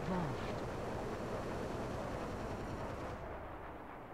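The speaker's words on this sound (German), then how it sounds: "wir jagen jetzt erstmal hier drumherum stehende Gebäude hoch" Heavy artillery fire and explosions in the real-time strategy game Conflict Zone, demolishing buildings; a dense, continuous rumbling barrage at steady loudness, easing slightly near the end.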